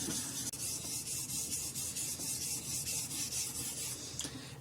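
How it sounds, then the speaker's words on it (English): A knife blade being sharpened on a Hapstone stone fitted with a convex rod adapter, a close, rhythmic gritty rasping of repeated strokes, steady and fairly quiet. "you can just hear the difference on the grit of this stone that it makes while I'm sharpening"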